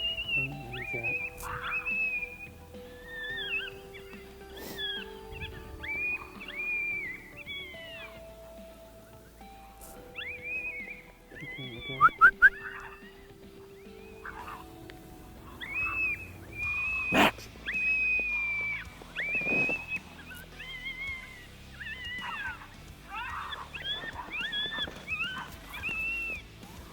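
A high, wavering electronic predator call for coyotes plays in repeated bursts, like distressed animal cries, over a soft outdoor background on a sub-zero South Dakota prairie, with a few sharp knocks near the middle.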